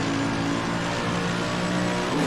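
A Mercedes-AMG GT racing car engine in the Assetto Corsa Competizione sim at Suzuka drones loudly and steadily from onboard, a dense, harmonic roar held at high revs throughout.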